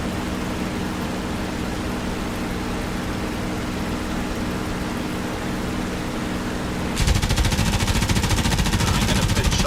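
A P-51 Mustang fires its guns at German positions over Omaha Beach in the DCS flight simulator. A steady rushing engine and wind roar gives way near the end to a sustained burst of rapid machine-gun fire.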